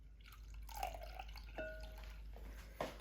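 Water poured into about a cup of beaten eggs for a silky steamed egg dish, a faint trickle with a few light splashes and drips in a quiet kitchen, mostly even with brief louder bursts.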